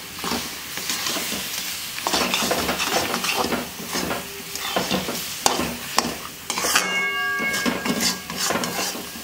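Tamarind pickle being stirred with fried spices in a pan, a steady run of scraping, clattering stirring strokes with a soft sizzle underneath, close and fairly loud throughout, no talking.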